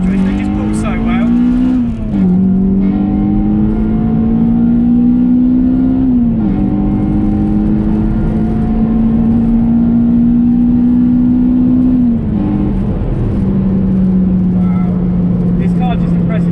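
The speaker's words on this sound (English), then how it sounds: "Keep it on that red line in the VTEC." A Honda Civic Type R EP3 engine drones loudly from inside the car, revving hard toward the VTEC red line through several gear changes, with each pitch climb cut by a brief dip at the shift.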